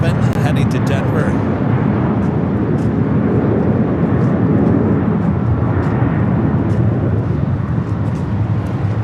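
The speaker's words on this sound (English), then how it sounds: "This is United Airlines 2061 taking off to Denver. 757-300." United Airlines Boeing 757-300 taking off for Denver from LAX, a loud, sustained broadband jet roar filling the whole stretch with little change, with speech likely present beneath it.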